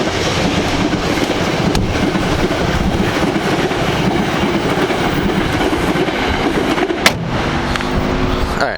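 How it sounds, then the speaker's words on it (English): A train rumbles past nearby with steady rolling noise and faint clickety-clack, a sharp click near the end. "Here comes the train."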